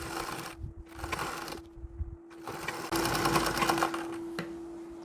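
A sewing machine stitches the border of a Bharatanatyam dhoti, running in steady close bursts with brief pauses and a constant motor hum underneath.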